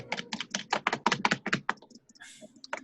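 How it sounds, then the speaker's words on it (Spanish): Rapid clatter of keys on a computer keyboard picked up by an open microphone during an online class session, a steady burst of close, crisp keystrokes running for about two seconds before thinning out to a few scattered taps. "Y el que le está dando al teclado, por favor, que se tranquilice y apague el micrófono."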